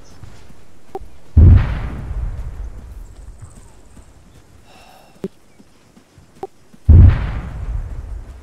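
Two heavy, booming mortar explosions in the Arma 3 war game land a few seconds apart over a quiet background, with a few sharp pops in between.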